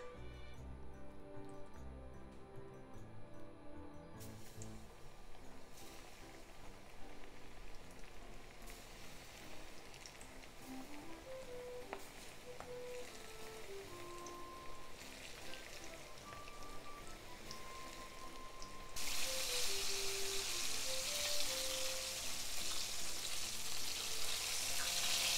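Karaage, Japanese chicken pieces, fry in hot oil with a steady hiss and crackle, the sizzle growing louder and brighter near the end, with no talking.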